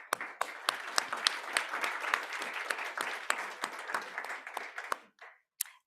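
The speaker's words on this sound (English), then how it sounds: "Can we kindly welcome him with a warm applause?" Warm applause from an audience welcoming the Director General of the Africa CDC at a health security event, a dense crowd of clapping with sharp individual claps that rises and then thins out to a few last claps.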